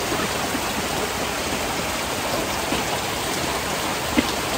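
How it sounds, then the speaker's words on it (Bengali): Heavy rain pouring onto a flooded garden, a dense, steady hiss of drops on wet surfaces that stays loud and even throughout, with one faint knock near the end. "কত সুন্দর বৃষ্টি, তাই না?"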